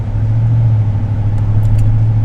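A new GM gasoline pickup truck engine runs through an aftermarket exhaust, giving a steady, deep, clean rumble that holds at a loud, even level for the whole stretch, with no talking over it.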